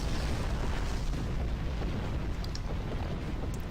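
A sci-fi explosion in the space combat game Star Trek Online, heard as a loud, sustained rumbling roar with crackling debris bursts, filling the whole span without any talk.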